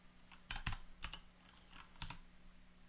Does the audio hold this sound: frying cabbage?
no